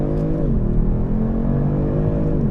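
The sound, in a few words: sports car engine accelerating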